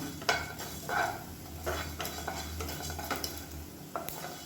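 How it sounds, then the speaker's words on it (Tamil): Ingredients for chutney dry-roasting in a kadai, stirred with a utensil: soft, steady scraping and rustling with scattered light clinks and a faint sizzle, close and fairly quiet. "இப்போ பாருங்கள், நல்லா வறுபட ஆரம்பிச்சிருச்சு."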